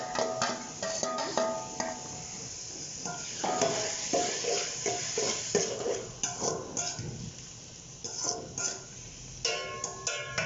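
Ginger paste and green chillies frying in a pot for Punjabi chicken biryani, a steady close sizzle with repeated scraping and clinking of a stirring spoon against the pan.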